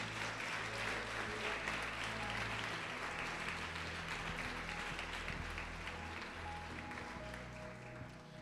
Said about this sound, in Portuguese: pode aplaudir o Senhor, glorificar a Deus